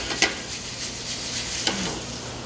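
Garden tomatoes sizzle steadily in a hot restaurant pan, with two brief soft knocks as they are flipped over the constant frying hiss.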